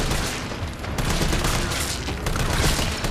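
Rapid bursts of gunfire from Resident Evil 4 gameplay as zombies are shot down, loud and continuous over three seconds with dense overlapping blasts.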